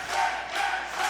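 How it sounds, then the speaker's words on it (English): A wrestling video game crowd roars with sustained cheering and shouting, loud and dense, swelling in waves across the short stretch without any talk over it. "Crowd trying to get Bam back into this match."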